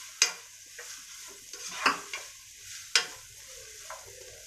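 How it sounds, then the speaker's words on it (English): Vermicelli sautéing in a pan over a medium flame, a soft steady sizzle broken by a few sharp scrapes of a spatula stirring against the metal, close and fairly quiet with no talking. "Until then, we'll saute it."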